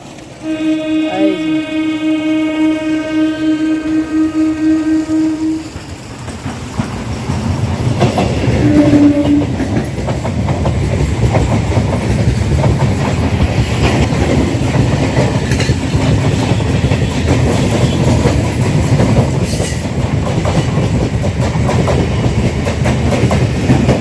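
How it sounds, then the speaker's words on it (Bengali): A passing train sounds a long, loud horn for several seconds, then rumbles close by for a sustained stretch with clattering wheels and a brief squeal, heard from beside the track while someone walks nearby. "এক্ষুনি ট্রেন আসছে আমার পিছন থেকে"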